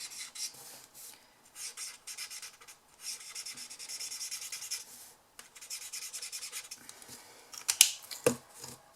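Pen or marker rubbed quickly over drawn flowers on paper: a series of soft, close scratchy strokes in short bursts with brief pauses, ending with a couple of sharper taps.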